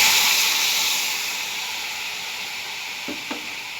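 Tamarind juice hits a hot pan for huli gojju and sets off a loud, steady sizzle and hiss that slowly settles, with a couple of faint utensil clinks near the end.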